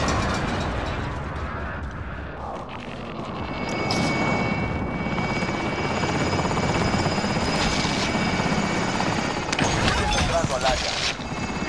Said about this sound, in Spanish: Helicóptero en posición.